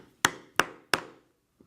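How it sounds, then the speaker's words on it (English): A metal chisel punch struck through leather for a fringed cross-body purse: three sharp, evenly spaced hammer blows up close, each ringing briefly, followed by a faint tap. "And now I will punch all the way around with this chisel."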